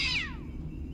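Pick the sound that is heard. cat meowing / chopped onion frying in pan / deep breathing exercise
cat meowing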